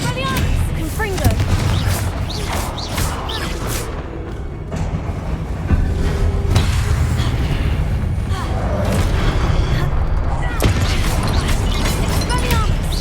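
Spell explosions and combat blasts in the video game Hogwarts Legacy, a run of loud booms, cracks and whooshing magical effects that repeat throughout, with a voice calling out spell names among them.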